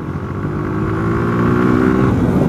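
A Suzuki Gixxer 150 150cc motorcycle engine while riding: a steady, close, loud droning hum that climbs slightly in pitch, with no voices.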